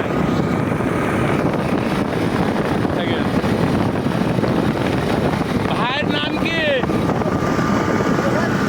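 A motorcycle ridden outdoors, its engine a steady continuous drone buried under heavy wind rush, with a brief voice cutting in near the end.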